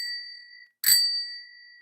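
A bright notification bell sound effect rings out: a lingering chime is followed by a sharp new ding that rings and decays, with another strike starting at the very end.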